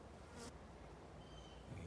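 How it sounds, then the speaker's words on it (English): Native bees buzz around a flowering native bush on a morning outdoors, a faint, steady hum of insects near and far with no speech. "You can see the bees on it"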